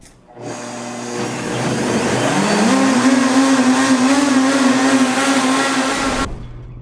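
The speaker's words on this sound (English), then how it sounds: "So let's get these in the blender and get them blended." A blender whirs as it purees ghost peppers for hot sauce, a loud steady motor whine that rises in pitch as it spins up, holds for several seconds, then cuts off.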